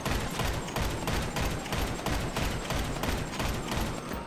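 Video game gunfire, repeated rapid bursts of shots in a steady rhythm, moderately loud and continuous with no talk over it.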